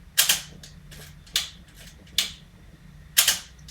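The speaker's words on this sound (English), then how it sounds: "I'll try and find the shutter for you. It's a double advance." A film camera's shutter fires four times at uneven intervals, each a crisp mechanical click with a short whirring tail, over a faint hum.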